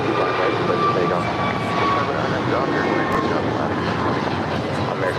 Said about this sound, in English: 522 coming in from San Salvador. It's an A319 in the Star Alliance livery.